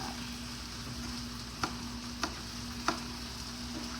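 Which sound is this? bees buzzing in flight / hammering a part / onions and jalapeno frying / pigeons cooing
onions and jalapeno frying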